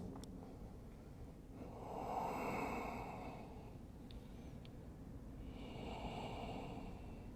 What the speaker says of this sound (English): Maybe using ujjayi or that throat breathing, or just slow, deep breaths.